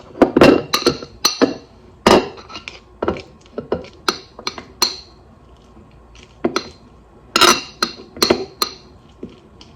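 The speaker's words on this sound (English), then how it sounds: "Big wad of butter, and then I literally just like press all of the garlic into it" A metal garlic press squeezes garlic into a big wad of butter in a kitchen, giving a string of sharp, irregular metallic clinks and clacks against the bowl, close and fairly loud, with quiet gaps between.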